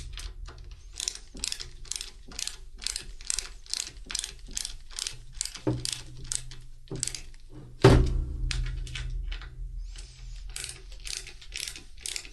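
Ratchet wrench tightening bolts on an iPad kiosk build, rapid rhythmic clicking in repeated bursts at close range, with a single loud thunk partway through and no talk.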